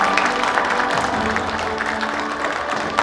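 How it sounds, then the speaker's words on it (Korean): Audience applause at a government award ceremony in a conference hall, a steady wash of many hands clapping throughout, fairly loud and even. "여러분 큰 박수 부탁드립니다."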